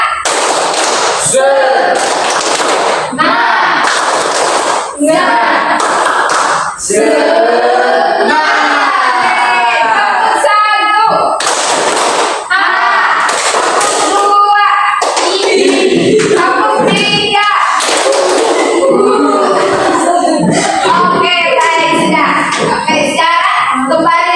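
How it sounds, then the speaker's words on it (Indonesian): A class of students performs the 'tepuk semangat' rhythmic clapping chant, loud sharp claps in a set pattern alternating with voices chanting together in unison, repeating over about twenty seconds. "Tepuk semangat."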